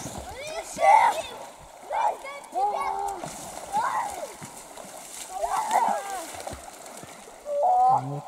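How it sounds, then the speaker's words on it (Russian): Children splash and play in the warm, shallow water of a pond outdoors, with irregular bursts of splashing and excited young voices, plus an adult talking nearby over steady background noise. "Они купаются, радуются жизни."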